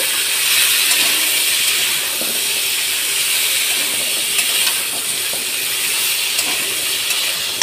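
Six whole onions sizzle in oil in a chicken soup pot, giving a steady, close frying hiss with occasional small pops and no talk.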